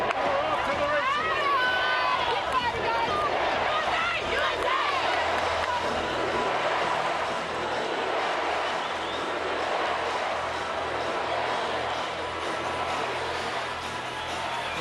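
Volleyball crowd at a USA versus Türkiye VNL 2024 match cheering in a dense, sustained roar, with whistles and shouts near the start that ease into a steady, loud arena din.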